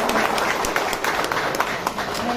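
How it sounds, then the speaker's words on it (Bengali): An audience claps at a motorcycle launch event for the 2024 Hero Xtreme 125 R, a dense, steady patter of many hands applauding throughout at moderate loudness. "একটা জোরে হাততালি দিয়ে দিন।"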